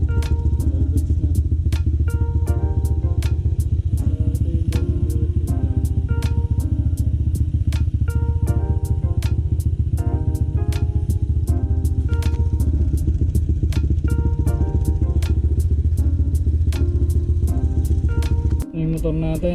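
A motorcycle engine idles steadily after DIY preventive maintenance, with a constant low rumble and a regular ticking clatter, running close and loud before cutting off at the end.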